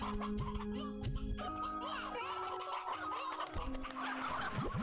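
Chickens cluck repeatedly in the video game Slime Rancher 2, a dense flock of overlapping clucks and squawks, close and steady against a faint tonal game background.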